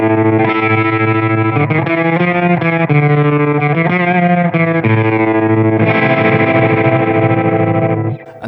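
Guitar played through a Boss FDR-1 Fender Deluxe Reverb pedal with vibrato and reverb turned up high, giving sustained, warbling chords with a wide, washy tail. It plays loud and continuous, with no talking.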